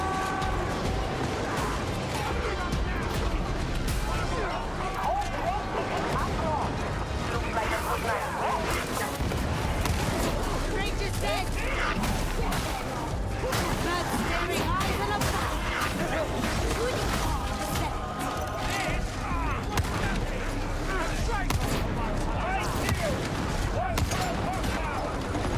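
Gunfire rages through a firefight in Warhammer 40K: Darktide, with dense overlapping shots and crashes forming a continuous, loud wall of combat noise while voices talk over the din.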